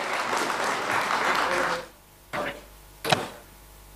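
An audience at a poultry federation event applauds loudly for about two seconds, the clapping then stopping abruptly, followed by a few scattered single claps and knocks in a quieter hall.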